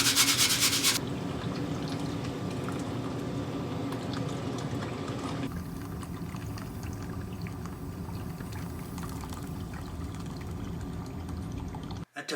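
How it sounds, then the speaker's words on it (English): Gold concentrate sand sifted through a kitchen strainer, giving a steady, close gritty rubbing and pouring hiss that runs unbroken for the whole stretch, with a brief brighter rattle at the start. "First thing I'm gonna do though is classify it with my handy dandy kitchen strainer."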